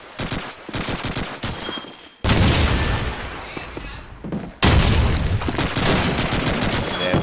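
Video game gunfire sprays in rapid automatic bursts with heavy booming impacts at two points, loud and close, while a match commentator talks over it.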